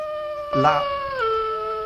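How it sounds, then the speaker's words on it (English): Wolves howling, sustained tonal howls that waver and bend in pitch, with a brief louder yelping burst midway before the long howl continues and slides lower. "So you notice that the wolves howling almost like gets louder"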